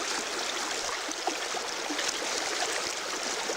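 Feet dip into a cool mountain stream on Monte Tersadia, where the water rushes and gurgles in a steady, close, even flow with no voices.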